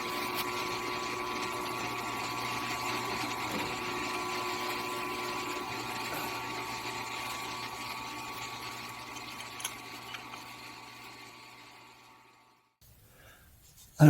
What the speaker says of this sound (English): what I'm doing here is countersinking them to 82 degrees